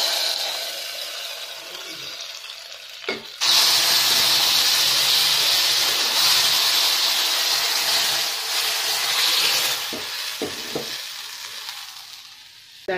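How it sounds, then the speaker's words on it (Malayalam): Hot oil tempering of dried red chilli and curry leaves poured into a ridge gourd and toor dal curry, bursting into a loud, steady sizzling hiss that fades slowly, with a few spoon clinks before and after. "ഇനി താളിച്ചെടുത്തത് ഈ കറിയിലേക്ക് ഒഴിച്ചു കൊടുക്കാം."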